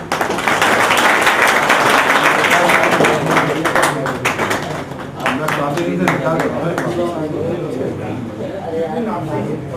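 Clapping at a retirement function for S.C. Jain, sharp hand claps breaking out among the gathered people while voices talk over and around them.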